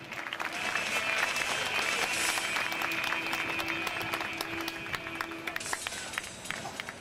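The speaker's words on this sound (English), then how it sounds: "How about one last round of applause for Steven?" A crowd at an aquarium show applauds a volunteer named Steven, sustained clapping from many hands with cheering and a whistle-like tone over it, fairly close and steady before tapering slightly at the end.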